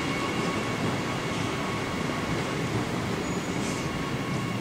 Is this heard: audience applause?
no